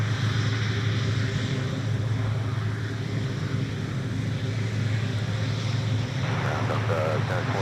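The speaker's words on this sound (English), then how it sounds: "Delta 9 has the A330-900 Neo attached to that service today" A Delta Airbus A330-900neo airliner at Minneapolis–St. Paul airport produces a steady broad jet roar with a low engine hum, continuous and fairly loud, with a faint radio voice.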